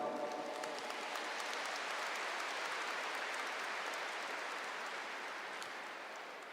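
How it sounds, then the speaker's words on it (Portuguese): A large audience applauds at a Catholic healing and deliverance camp, with dense, even clapping that holds steady and starts to fade only near the end. "Pode aplaudir."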